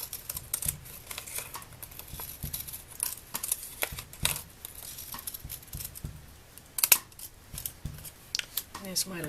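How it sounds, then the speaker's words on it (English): Decorative scissors snip through card along a pencil mark in close, crisp, irregular cuts and rustles, repeated clicks of the blades spaced unevenly, with some quiet talk mixed in. "I want to use the decorative scissors, which is what I've done here to give it a jagged look"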